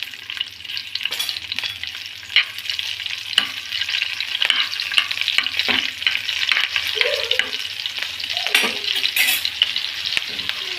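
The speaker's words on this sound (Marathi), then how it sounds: "चला, आपला तेल गरम झालाय। सर्वात आधी टाकल्यात आपण हिरव्या मिरच्या," Green chillies frying in hot oil in a home kitchen, a steady close sizzle with crackling pops and stirring scrapes throughout.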